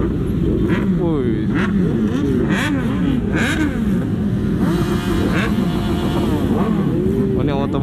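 Motorcycles, including a Yamaha R6, rev and roar together on a crowded Sunday group ride, engine pitch rising and falling continuously and loudly, with people shouting over the noise.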